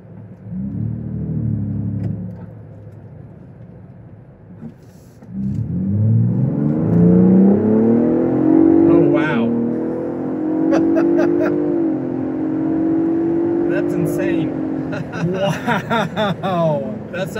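A Gen 6 Ford Bronco's engine revs up loud and close from about five seconds, holding a strong rising drone with brief throttle blips near the end, while occupants talk and chuckle over it.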